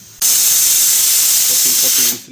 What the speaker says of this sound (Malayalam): വിസിൽ പൊട്ടി.